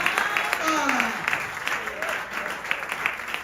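A church congregation claps and cheers at a worship service in steady, lively applause, with a voice singing or calling out over it.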